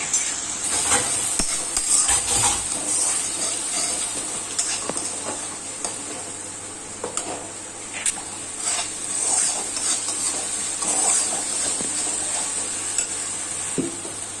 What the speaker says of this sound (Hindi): अब इसमें हम डाल देते हैं लहसुन अदरक का पेस्ट। अब इसे 15 से 20 मिनट तक भून लेते हैं।